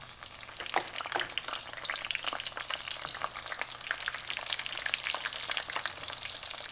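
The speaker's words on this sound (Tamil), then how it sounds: "இப்போ வந்து நான் கத்திரிக்காய் பொரிக்க போகிறேன்." Eggplant fries in hot oil for a Jaffna-style curry, a steady close crackle and sizzle with occasional stirring scrapes and sharp pops throughout.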